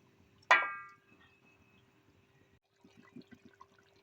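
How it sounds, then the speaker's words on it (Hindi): Water is poured into fish curry masala in a cooking pan, making one short, fairly close splash that quickly fades, followed by quiet and a few soft clinks. "जो हमारा मछली का मसाला था अब इसमें पानी डाल के और इसमें डाल देंगे।"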